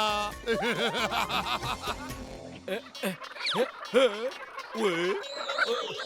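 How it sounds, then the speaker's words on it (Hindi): Cartoon chicks freshly hatched from eggs cluck and chirp in a busy, bouncy series of squawky calls, some with a rubbery, croaking quality, close and loud with no talk. "लगता है अंडों से चूजे बाहर निकल आए"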